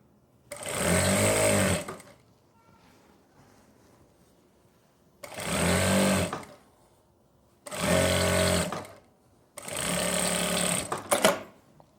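A sewing machine stitches a half-inch seam along palazzo pant fabric in four separate bursts of steady motor hum, each lasting one to two seconds, with quiet pauses between them and no talk.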